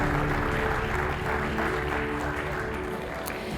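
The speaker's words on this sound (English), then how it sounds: "A big applause." A conference audience at a closing plenary and awards ceremony applauds in a dense, steady wash of clapping that holds at an even, moderate level.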